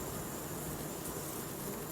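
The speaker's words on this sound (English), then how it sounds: "As temperatures rise, the insects emerge from the hives" Honeybees buzz around their hives in a dense, continuous hum, close and steady without pauses.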